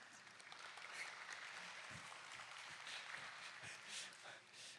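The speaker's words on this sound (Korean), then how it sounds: "이렇게 나오면 여러분들 박수 쳐주고, 아무 말도 안 했는데 박수 쳐주고" Audience applause at a student camp talk, a steady patter of many hands clapping throughout, moderately close and continuous with a few louder claps standing out.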